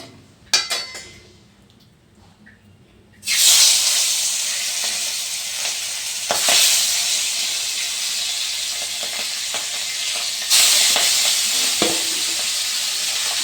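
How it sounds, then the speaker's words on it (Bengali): Aar fish pieces, three at a time, fry in a hot salted kadai. After a few quiet seconds of faint handling noise, a loud, steady sizzle erupts and holds, with occasional spatter and utensil knocks. "3 পিস করে ভেজে নেব দুইবারে"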